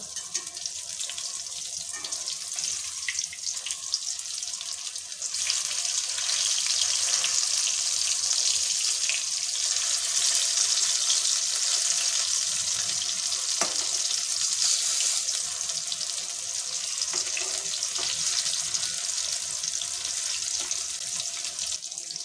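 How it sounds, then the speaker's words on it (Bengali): Pointed gourd (potol) frying in a pan over a medium gas flame gives a steady, close hiss and sizzle that runs unbroken throughout, louder in the middle, with no talking. "গ্যাসের আঁচটা একটু মিডিয়ামে দিয়ে পটলগুলো ভেজে নিতে হবে।"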